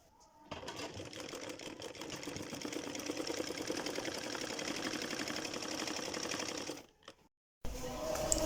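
An electric sewing machine runs steadily, stitching two salwar cloth pieces together, with a continuous fast whirring chatter that stops briefly near the end and then resumes.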